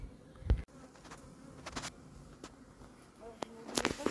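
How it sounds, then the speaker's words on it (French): Honeybees from a captured swarm buzz faintly inside a cardboard box, a low steady hum with scattered bumps, taps and brief handling noises nearby. "J'ai mis un gros paquet d'abeilles dans le carton."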